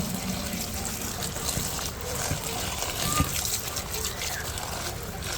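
Taro pieces being washed by hand in water for a home-cooked dish, with steady sloshing, splashing and trickling throughout, close and moderately loud, with no clear talk over it.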